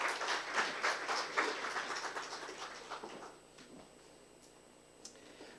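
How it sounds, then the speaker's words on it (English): Applause for a speaker being welcomed on stage at a life sciences conference, a crowd's clapping that is strongest at the start and thins out to scattered claps and faint room noise. "please welcome with a huge round of applause"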